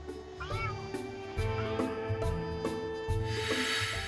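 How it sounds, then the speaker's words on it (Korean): A cat living in a secondhand bookshop meows repeatedly in a drawn-out, singing way, several rising and falling calls that are clear and fairly close over a quiet room. "살던 터전을 하루아침에 잃어버린 홍이. 다시 옛날처럼 마음껏 뛰놀고 싶다고 노래하는 듯한데요"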